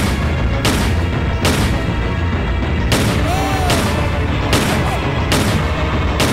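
Gunfire aimed at a giant baby in the video game Dreamland R: loud, booming shots land at a steady, roughly evenly spaced rhythm, each a sharp broadband blast over a constant dense game backdrop.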